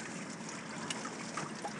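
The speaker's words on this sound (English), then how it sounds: "Hey, you're pouring your gear out." Water pouring and splashing steadily out of a fishing tackle bag, a continuous close trickling gush with small splashes throughout.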